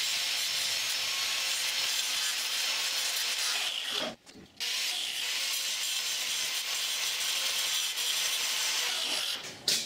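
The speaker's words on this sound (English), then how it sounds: "I've removed the top mushroom section off of the rivets" Rivet heads being ground or cut off a car window regulator, a steady broadband abrasive rasp that runs continuously, breaking briefly near the middle and again at the end, close and fairly loud.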